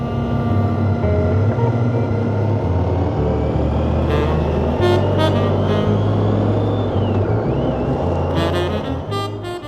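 A motorcycle ridden along the N330 road between Albacete and Teruel, a steady close engine drone with wind rush throughout, gear-like pitch shifts and brief higher whines near the middle and end.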